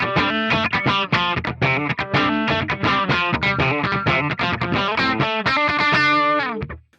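Electric guitar played through the red comp compressor model on a Mooer GE150 Pro multi-effects unit, a steady, busy riff of sustained, evenly compressed chords and notes, loud and continuous, ending with a held chord that fades out.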